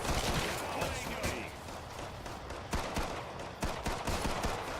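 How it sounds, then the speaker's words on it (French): Pistol gunfire in the shooter game Killing Floor 2: rapid, loud shots crack one after another in a dense, sustained volley with chaotic combat noise beneath. "Je vais devoir utiliser le pistolet."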